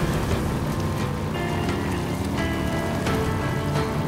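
Motorcycle riding through rain in Days Gone: a dense, steady wash of rain and spray over a low engine rumble, loud and continuous without pause, no voices.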